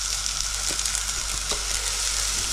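Garlic sizzling and frying steadily in a pot for Venezuelan pisca andina breakfast soup, a close, even hiss with a few soft stirring knocks and no talking.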